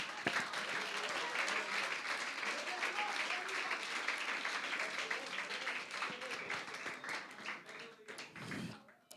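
A church congregation claps for a long stretch during a Spanish-language Christian sermon, dense and steady at first, then thinning out and fading toward the end, with some voices mixed in.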